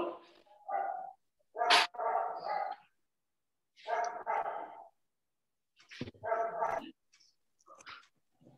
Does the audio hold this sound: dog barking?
yes